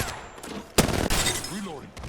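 Gunfire in Apex Legends, where a loud burst of weapon fire starts near the middle and runs as rapid shots for about a second. Quieter game effects follow, with a voice briefly audible.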